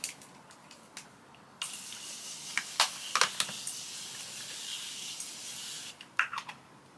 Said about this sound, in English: This is the Morphe setting spray.